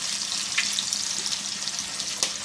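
Eggs sizzle and fry in hot oil in a pan with green chillies for egg fried rice, a steady close crackle with occasional sharper pops and no talk.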